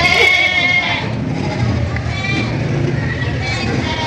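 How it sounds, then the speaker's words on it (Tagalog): Large goats at a livestock market bleat faintly amid a steady roar of crowd chatter and general market noise, with people talking nearby throughout. "Napakalaking kambing, oh."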